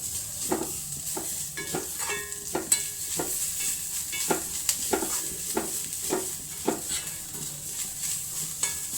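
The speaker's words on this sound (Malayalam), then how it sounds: "അപ്പോൾ തേങ്ങ വറുത്ത് കൊടുക്കട്ടെ കേട്ടോ." Coconut roasting in a hot pan gives a soft, steady sizzle broken by a run of sharp scraping and clinking strokes as it is stirred, close and clear, with no talking.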